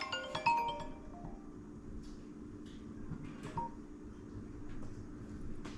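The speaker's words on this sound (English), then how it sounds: "Sorry, my phone started ringing." A mobile phone sounds a short electronic tone pattern at the start, faint and close, followed by quieter scattered clicks and handling noises over a low background hum, without speech.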